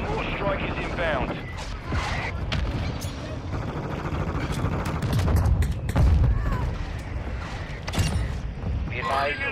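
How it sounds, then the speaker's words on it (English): Mortar strike blasts in the Black Ops 6 multiplayer video game, deep booms and crackling gunfire rolling continuously under game radio chatter, with heavier impacts swelling midway. "Our mortar strike is inbound."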